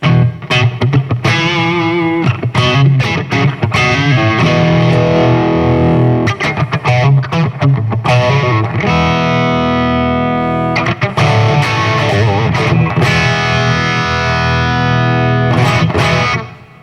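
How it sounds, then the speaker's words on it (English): Loud, heavily distorted electric guitar chords through a distortion pedal, strummed and sustained with choppy stops and restarts, filling the sound with thick overdriven crunch. "Let me turn the distortion box back on."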